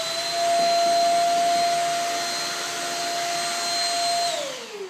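A Shark Rocket stick vacuum with its crevice tool fitted runs steadily with a loud, even whine, then its motor spins down near the end.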